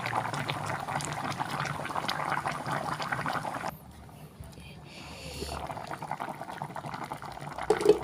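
Pork bone and bitter melon soup simmers in a pot, giving a continuous close bubbling that drops to a quieter stretch midway before rising again, with a voice faintly present at times.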